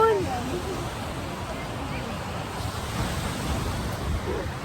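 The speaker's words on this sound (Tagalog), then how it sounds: "Sarap ng alon." Steady wash of ocean waves and surf with wind buffeting the microphone, continuous and fairly loud, no clear talk.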